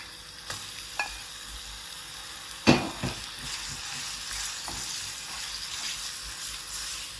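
Beef fries in a pan with ginger garlic paste, a dense continuous sizzle close by, with a few distinct clanks and scrapes of a spoon stirring, the loudest near the middle.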